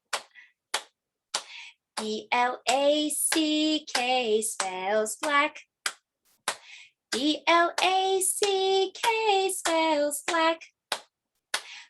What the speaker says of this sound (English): Clap your hands like this